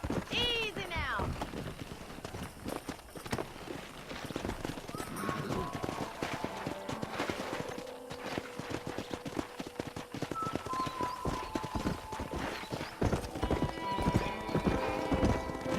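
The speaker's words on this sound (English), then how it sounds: "there's a pack of wild horses nearby" Wild horses gallop and neigh in the Red Dead Redemption video game, with a rapid clip-clop of hooves, a whinny at the start and another later, and a voice speaking over the hoofbeats.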